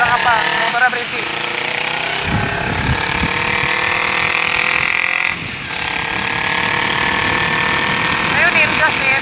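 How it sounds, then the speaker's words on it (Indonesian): A noisy motorbike engine idles nearby with a steady rough drone and a brief dip midway, while people talk over it. "Motornya berisik."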